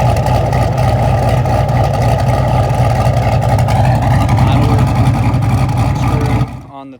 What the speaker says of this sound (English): car started idling good, started running better